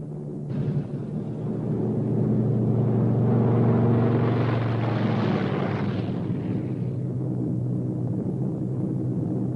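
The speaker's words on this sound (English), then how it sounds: "On the 28th, she took to the air for the first time." A Boeing 299 four-engine bomber, prototype of the B-17 Flying Fortress, drones in flight as a steady, loud propeller rumble that swells in the middle and holds alone throughout.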